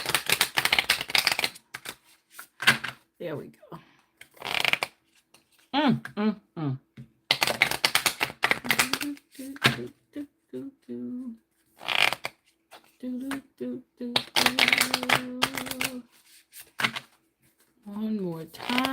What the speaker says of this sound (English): being able to shuffle these cards